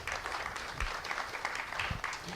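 Audience applause at a Los Angeles administration briefing, a fairly faint, distant patter of clapping from a modest crowd with a few low thumps, steady for a couple of seconds.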